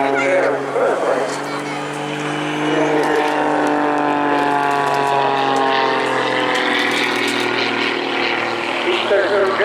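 A jet-assisted Pitts biplane at an airshow, with small auxiliary jets adding thrust to its propeller engine, roars at full power in a loud, sustained drone that steadily rises in pitch as it passes. A commentator talks over it.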